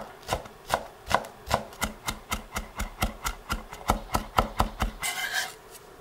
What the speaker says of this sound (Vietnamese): Mình dùng một ít gốc hành lá băm nhuyễn ra để chút nữa đó mình ướp vào chả cá.